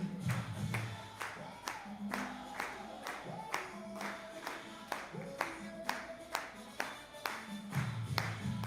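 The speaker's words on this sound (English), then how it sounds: "So just clap your hands, everybody." A conference audience claps along in steady rhythm at an opening ceremony, sharp hand claps repeating roughly every half second over music, with a voice faintly audible now and then.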